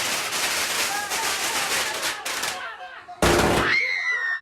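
New Year's Eve fireworks crackle and pop in rapid, dense bursts, then a louder sharp bang is followed by whistling, rising tones, heard amid crowd noise from a moderate distance.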